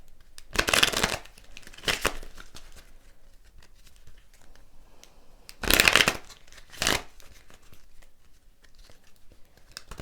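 Tarot cards are shuffled by hand in two bursts of crisp riffling and sliding, close and clear, each followed by a short flick, with no talking.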